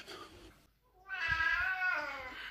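An Oriental cat lets out a loud, drawn-out demanding meow after a brief quieter sound and a short pause, close by and alone.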